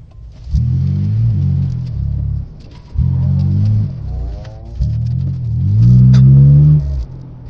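A car engine rumbles and revs in three separate bursts while driving downhill, dropping back between them, with the last push rising higher in pitch as the vehicle makes a U-turn.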